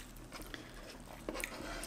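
Someone chews a bite of fish during a Filipino food mukbang, with soft, close, wet bites and mastication over a couple of seconds.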